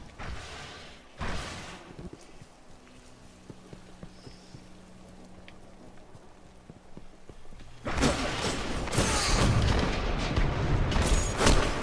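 A Viking Funeral heavy machine gun fires in Destiny, giving sharp, loud bursts of rapid shots, one brief volley near the start and then a sustained roaring barrage over the final few seconds, with quieter game ambience between.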